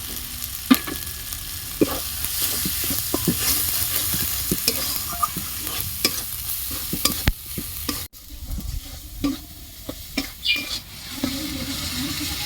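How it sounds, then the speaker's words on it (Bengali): Spices, ginger and tomato sizzle and fry in a pan for a moong dal, stirred steadily with a spoon scraping and tapping throughout, close and moderately loud with no talking. "মশলাটা দিয়ে ভালো করে একটু কষিয়ে নিয়েছি"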